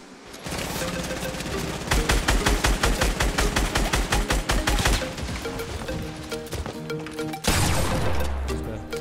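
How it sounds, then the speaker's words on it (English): Rapid automatic gunfire in Fortnite Battle Royale rattles out in long, fast bursts of sharp, loud shots, pausing briefly before another heavy volley near the end. "Somebody was shooting us from south southwest."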